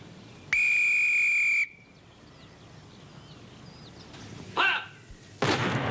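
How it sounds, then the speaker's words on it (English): A single loud whistle blast rings out close by for about a second. Quiet follows, then two short, distant bangs. "I'm due to blow the whistle in 30 seconds."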